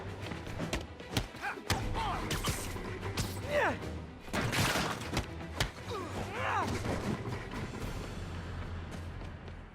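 Rocket launchers fire in the video game Marvel's Spider-Man, sending out a string of heavy booming blasts and thuds with crashing debris, several big bursts overlapping in a busy, chaotic stretch.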